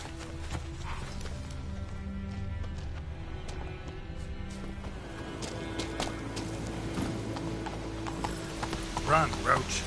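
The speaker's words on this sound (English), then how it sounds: "Run, Roach" Hooves of a galloping horse in The Witcher 3 beat a steady, rapid clip-clop close by, continuing throughout over a low ambient bed, with a voice speaking briefly near the end.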